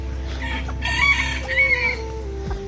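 Chickens cluck close by while a rooster crows in a short rising call, all in a brief burst of farmyard noise.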